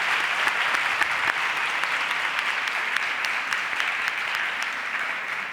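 A seated audience at a genetics ethics debate claps for the two speakers, a dense, steady round of applause that carries on evenly and fades slightly toward the end.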